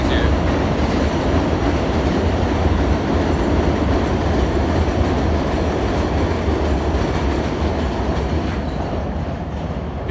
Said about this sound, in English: one second, the train is here.